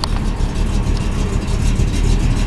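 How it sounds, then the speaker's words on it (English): A 1981 Chevy short box pickup with a Turbo 400 transmission, 12-bolt rear end and dual exhaust idles with a steady, close, loud rumble. "Has a nice little rumble to it with dual exhaust."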